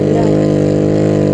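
A damaged car engine in the BeamNG.drive crash game revs hard and steady, a loud buzzing drone with a rapid pulsing chop like a helicopter, holding one pitch throughout with no voices over it.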